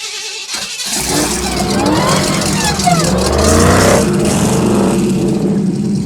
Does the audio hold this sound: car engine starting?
yes